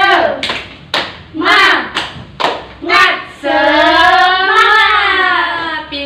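A classroom of students claps a rhythmic spirit clap in short, sharp bursts, some mixed with shouting voices, then breaks into a long, loud chant together.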